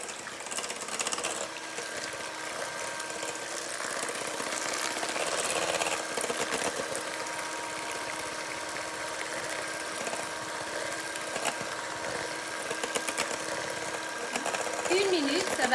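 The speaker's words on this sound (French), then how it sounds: "les œufs sont bien battus avec le sucre" An electric mixer beats eggs with sugar for a chocolate cake with a steady, whirring motor drone that runs throughout, while a person talks over it.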